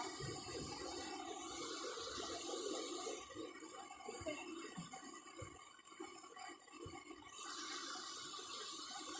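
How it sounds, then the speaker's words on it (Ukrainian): Water flowing outdoors in a natural setting, a steady rushing and gurgling that stays fairly faint and continuous, with no talking. "послухаємо шум води."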